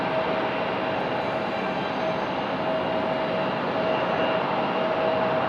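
A United Boeing 737 MAX 9 airliner at Raleigh-Durham airport fills the air with a steady, broad jet roar and a faint whine, constant and moderately loud.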